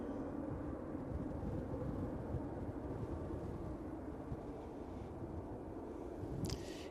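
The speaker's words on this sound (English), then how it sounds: "EasyJet on the roll" An EasyJet airliner bound for Geneva rolls for takeoff at Manchester Airport, its engines a steady distant roar with no talk.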